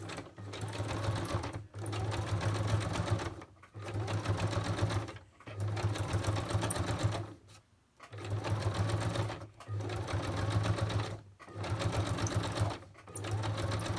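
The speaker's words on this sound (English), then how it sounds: "I'm going to put a little zigzag and I'm going to stitch around my button." A sewing machine zigzag stitching around a button, running in steady whirring bursts of a second or two with short pauses between them, close and fairly quiet, with no talk.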